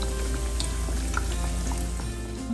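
Battered fish fries in hot oil until golden brown, giving a steady, dense sizzle and crackle that runs unbroken throughout.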